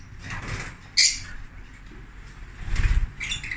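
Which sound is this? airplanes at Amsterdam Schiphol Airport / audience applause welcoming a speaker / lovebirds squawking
lovebirds squawking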